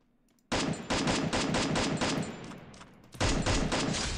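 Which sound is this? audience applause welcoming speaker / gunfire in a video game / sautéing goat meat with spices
gunfire in a video game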